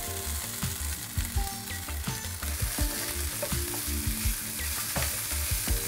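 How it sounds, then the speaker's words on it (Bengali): Soaked, drained poha (flattened rice) sizzles and fries in a pan while being stirred, with a steady close crackle and irregular scraping clinks throughout and no talking. "তো চিড়েটা দিয়ে আমি একটু ভাজা ভাজা করে নিচ্ছি"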